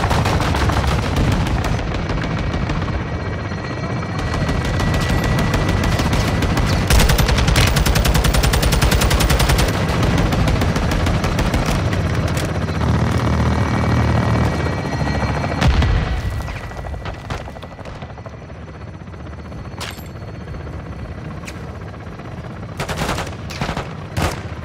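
Sustained heavy gunfire from a Call of Duty: Modern Warfare 2 battle: dense automatic bursts and booming impacts roll on loudly for about fifteen seconds, then thin out into scattered shots and distant rumble.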